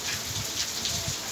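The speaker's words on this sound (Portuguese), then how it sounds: "Chegou a chuva em Teodoro, dia 15 de outubro de 2024." Heavy rain pours steadily in the Bahia sertão in Teodoro, a dense continuous hiss of drops on surfaces, loud and close, with no voices.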